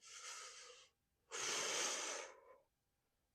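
Exercise breathing during a home workout: two close, breathy exhales or inhales, a short one followed by a longer one after a brief pause, then quiet.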